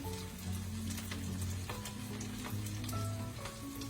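Malaysian prawn fritters (cucur udang) fry in hot oil, giving a steady, dense sizzle and crackle close by with scattered pops throughout, under a low background hum and no talking.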